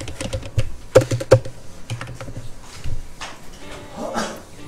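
Keys clatter on a computer keyboard as an AutoCAD line command is typed and Enter is struck, a few sharp clustered clicks close by followed by scattered lighter taps.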